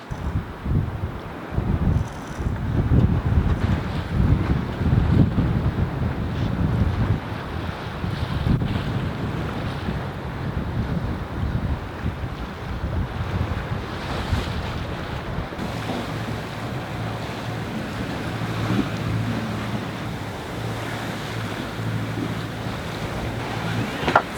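Choppy sea washes around a sailboat anchored in a Mallorca cove, waves slapping and surging close against the hull under heavy wind gusting on the microphone, easing later into a lower rumble of water.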